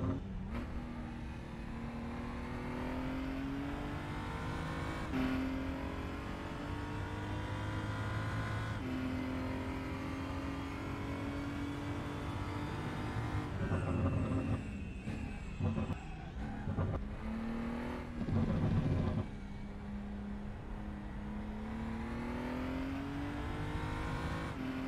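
BMW 235i engine lapping the Zandvoort circuit in a racing game, revving high and pulling steadily through gears, with pitch dropping at each shift and brief rough bursts under braking and turning, alone without talk.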